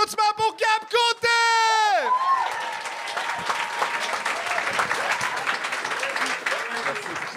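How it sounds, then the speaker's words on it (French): A comedy show audience breaks into loud, sustained applause for an arriving guest, with crowd cheering. A musical sting sounds first, then the clapping runs alone to the end. "Faites un tonnerre d'applaudissements pour Gab Côté!"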